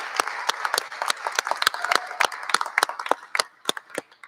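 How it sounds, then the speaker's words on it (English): Applause from an audience at a Constitution Day event, following an opening performance by a school band: scattered, fairly sparse claps that rise and fall steadily over several seconds, with no talking. "everyone give them a round of applause"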